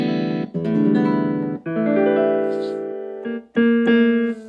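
Piano-like notes and chords from an AeroBand guitar controller set to a piano tone ring out in several sustained phrases with brief gaps between them, clear and close.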